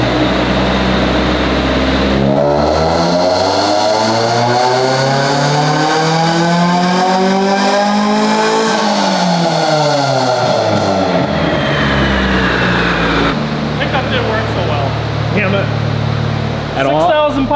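A front-wheel-drive car run on a Dynojet dyno, its engine revving loudly in long rising and falling sweeps as the front wheels spin on the roller, with a sharp change partway through.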